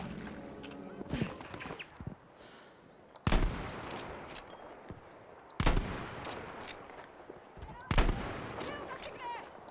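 Sniper gunfire in the video game Battlefield V: three loud, booming shots spaced a couple of seconds apart, each with a rumbling tail, over a background of game ambience and occasional muffled voices.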